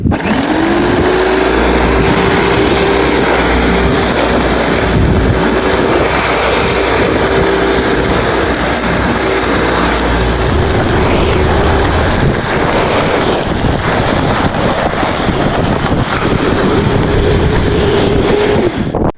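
A petrol lawn mower engine runs loud and steady close by, starting with a rising pitch and then droning on at an even speed, alone with no talking.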